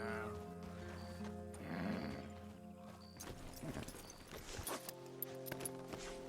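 Horses in the video game Red Dead Redemption 2, including an American Paint and a Tennessee Walker, snort and whinny, with hoof clops and shuffling movement, and someone talks quietly over them.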